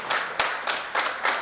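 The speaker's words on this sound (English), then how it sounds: "so big round of applause from all the team ZRTI." A few people clap in slow, sparse bursts, with distinct individual claps rather than a large crowd, fairly close.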